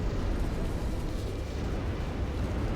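Sustained dense rumble of rocket explosions in the Ashes of the Singularity: Escalation real-time strategy game, a continuous broadband roar holding steady with no distinct individual blasts.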